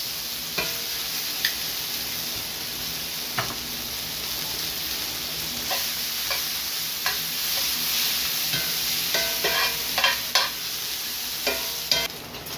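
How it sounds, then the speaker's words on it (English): Onions cooking in a pan for a Wagyu flat iron steak recipe give a steady close sizzle, broken by scattered clicks and scrapes of stirring. "So now that my onions have started cooking a little bit"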